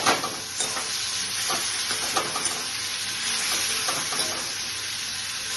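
Pumpkin seed and green chili paste frying in a hot pan for a chichinga curry with mustard, giving a loud, continuous close sizzle with occasional scraping as the paste is stirred.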